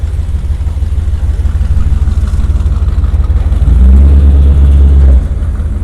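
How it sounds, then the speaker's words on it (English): Classic cars such as Chevys, a Cadillac and a Ford hot rod roll in at a New Year's Eve cruise on Pasadena's Rose Parade route, a loud steady engine drone close by, swelling into a deeper heavier rumble for a moment before easing back. "As you can see, the cars are actually still rolling in."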